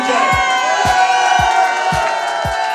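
Club crowd in London cheering and whooping for a charity, a loud, sustained roar of voices with a thumping bass beat pulsing steadily underneath.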